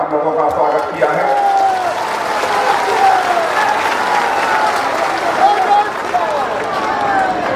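A large crowd claps steadily at an outdoor political public meeting in Simlapal addressed by Rajnath Singh. The dense applause stays loud and sustained throughout, with tonal crowd noise mixed in.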